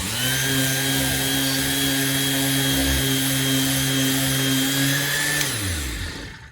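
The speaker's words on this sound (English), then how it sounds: "So I'm gonna try to sand that away." A power sander grinds steadily and loudly across framing lumber, smoothing off surface marks for a double-swing wood door, a constant motor whine holding level before spinning down near the end.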